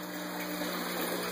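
ABS bell siphon breaking, water gushing and gurgling through the short pipe in a steady, close, continuous rush with no pause.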